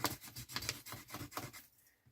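Glued paper on a hand cream gift box being burnished down by hand, a quick series of soft rubbing strokes, quiet and close, fading out at the end.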